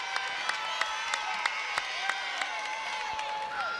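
Basketball crowd in a men's college game between Southern University and Texas Southern, cheering and applauding at moderate distance, with a steady roar of voices, scattered claps and sharp whistle-like shouts rising above.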